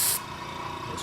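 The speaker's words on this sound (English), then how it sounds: "that's what pearlescent effect paint does. So let's just put a little bit on here. I'm going to test spray a little spot first." Pearlescent effect paint is sprayed onto a Polar Lights 1/350 scale Enterprise refit model from about four or five inches away: a short breathy hiss, a quiet pause, then another brief burst starting at the end.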